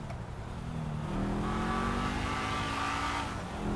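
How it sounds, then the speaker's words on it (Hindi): A car engine and exhaust in Grand Theft Auto V rev and accelerate steadily, the engine note rising and holding loud for several seconds with no talk over it. "ये देखो इंजन की आवाज़ सुनी थी"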